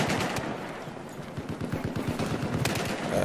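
Battlefield 4 multiplayer on the Siege of Shanghai map: rapid automatic gunfire bursts crackle close and loud over a dense battle din, with scattered distant shots.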